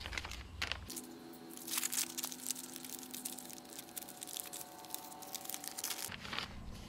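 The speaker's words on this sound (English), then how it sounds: "I'm gonna put it in this plastic bag overnight to soak." A plastic bag used to soak a part in WD-40 is handled and crinkled, with close, rustling crackles running for several seconds and brief sharp crinkles at the start and end.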